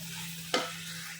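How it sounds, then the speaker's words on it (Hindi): Carrots, capsicum and cabbage frying for egg fried rice, with a steady broadband sizzle under a low hum and one brief louder stir or toss midway, no talking. "गाजर, शिमला मिर्च और बंद गोभी जो है ये फ्राई हो रही है अच्छी तरह से।"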